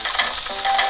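Salisbury steak sizzling as it fries in a pan, a steady, close, bright hiss of hot oil with slight crackle, continuous with no talking.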